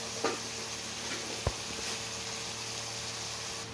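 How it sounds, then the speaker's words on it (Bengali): Ginger, garlic, dried red chili and green chili paste frying in hot oil for a potato and ray fish curry, a soft steady sizzle up close with a couple of brief utensil knocks. "আদা রসুন, শুকনো লঙ্কা, কাঁচা লঙ্কা পেস্টটা দিয়ে দিলাম। এটা একটু তেলের মধ্যে ভেজে নেব।"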